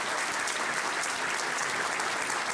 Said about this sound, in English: How about a big round of applause for both our